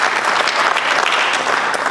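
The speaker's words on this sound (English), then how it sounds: "let's join me in a round of applause for the event staff and volunteers" Canada Day audience in Coquitlam applauding event staff and volunteers, steady dense clapping from a large crowd that fills the whole moment at even strength.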